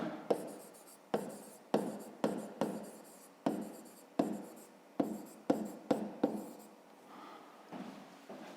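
Pen scratching out a 5th-grade maths solution on paper, a rapid series of about a dozen distinct strokes in uneven rhythm, close and fairly quiet, no speech.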